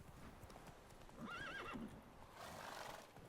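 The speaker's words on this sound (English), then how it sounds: "Run, Roach." A horse in The Witcher 3 gallops with rapid hoofbeats and lets out a clear, wavering whinny midway, the neigh standing out above the steady drumming of hooves.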